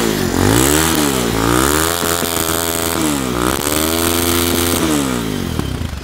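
A Bajaj Pulsar 220 motorcycle at a used bike dealer revs loudly and close, its engine pitch rising and falling in several repeated throttle blips over a rough idle.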